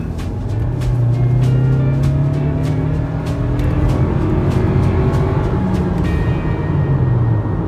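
A Lexus NX200t's four-cylinder engine accelerates in sport mode, a steady loud drone with rising engine tones alongside road noise from inside the cabin and no talking.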